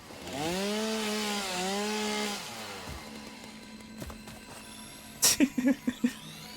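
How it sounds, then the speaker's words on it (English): A chainsaw in the video game Satisfactory revs with a rising, wavering whine for a couple of seconds, then settles to a low idle, followed by a burst of short sharp impacts. "So yes, I think I did cut the rock with the chainsaw."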